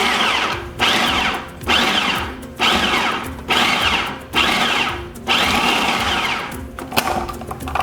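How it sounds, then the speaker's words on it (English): A food processor pulses chocolate chips into plant-based, gluten-free brownie batter in about seven short, loud whirring bursts separated by brief pauses. "So we're just gonna pulse this a couple of times just to get them combined."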